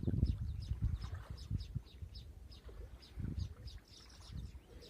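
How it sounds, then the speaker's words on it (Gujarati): A yellow sparrow chirps in short, repeated high tweets near its nest during rain, faint and scattered over low rumbling background noise. "આ પીળી ચકલી દેખાય ને"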